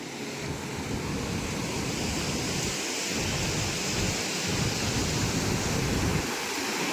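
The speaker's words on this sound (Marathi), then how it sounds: "माझा आवाज थोडं कमी होईल कारण लाटा जास्त असतात आज" Rough sea waves break on a sunny coast beside an ancient Shiva temple, a steady, loud, unbroken roar of surf and wind with no voices.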